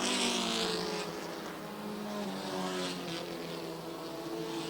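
Race cars on the dirt track at Airborne Speedway in Plattsburgh, New York, a pack of engines droning and rising in pitch as they pass, heard from the stands at moderate distance.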